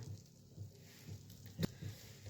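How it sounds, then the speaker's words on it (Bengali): A spoonful of flour cooks in melted butter in a pan for white sauce pasta, giving a soft, faint sizzle with light stirring pats and one brief sharper clatter near the end. "বাটারটা মেল্ট হয়ে গেছে, তো 1 চামচ আমি দিয়ে দিয়েছি ময়দা।"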